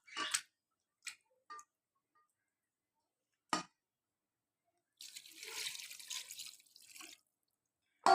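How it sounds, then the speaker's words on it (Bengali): A few short clinks and drips, then a steady stream of water pours into a pressure cooker of Malabar spinach for about two seconds before stopping. No one speaks. "এখন এতে দিয়ে দিব পানি"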